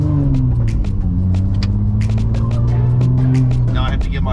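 Steady, loud engine drone and road rumble from a rebuilt Porsche 996 Turbo on new KW coilovers, heard from inside while driving, with the engine pitch rising and falling slightly.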